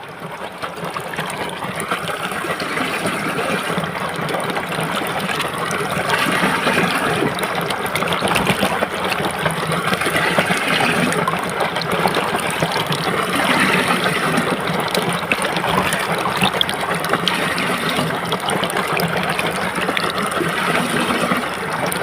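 Steady rushing water pours continuously into a bucket with urea fertilizer at close range, a full, even gush with no pauses and no voices.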